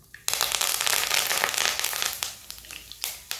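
Curry leaves and tempering spices hit hot oil in a pan, bursting into a sudden loud crackling and spitting sizzle that slowly settles.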